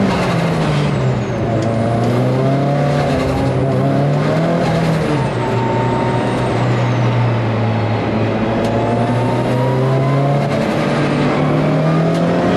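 Race cars, including a modified Audi A3 and a Mark 1 Escort, lap the Brands Hatch circuit, loud engines droning and shifting pitch as they pass and sweep round, continuous and near, without talk.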